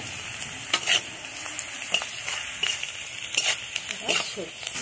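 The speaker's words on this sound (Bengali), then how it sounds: "লঙ্কা গুঁড়ো দিয়ে দিচ্ছি। যে যেমন ঝাল খায় তেমন দেবে। হালকা করে নেড়ে নেব।" Small river fish with salt and chili powder being stirred in a hot pan, with a steady sizzle and the scrape of a spatula in repeated strokes, close and alone.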